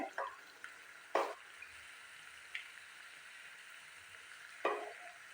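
Atta biscuits fry in a pan over a medium gas flame: a faint, steady hiss broken by a few sharp, scattered pops and crackles, with no talking.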